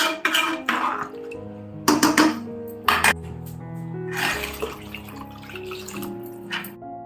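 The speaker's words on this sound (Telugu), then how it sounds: "ఇప్పుడు వాటర్ యాడ్ చేసుకోవాలన్నమాట ఒకటికి రెండు చొప్పున నీళ్లు పోసి బాగా మరిగించుకోవాలి" Water splashes and trickles in several short bursts into a cooking pot for boiling rice, with drips and light clinks from the pot, close up and with no voices.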